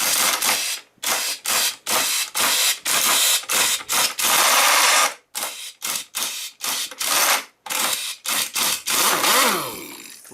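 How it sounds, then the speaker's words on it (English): A hand ratchet undoes the stud nuts on a snowmobile track of a ZRT800, loud close bursts of rapid clicking separated by brief pauses, repeating in quick strokes. "Take a wrench, impact gun, socket, whatever you got, ratchet, and undo them."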